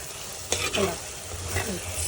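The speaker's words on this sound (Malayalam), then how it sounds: "അങ്ങനെ വിനെഗർ തിളച്ചു" Soft sizzling of masala and vinegar in a pan on a simmering flame for seer fish pickle, with a couple of brief scraping stirs, close and fairly quiet.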